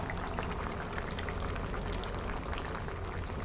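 Egg omelette curry gravy simmers in a pan, a soft, continuous bubbling and popping heard close but faint, with no voices.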